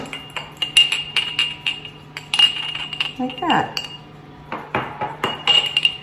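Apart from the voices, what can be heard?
glass jar clinking while tapping crust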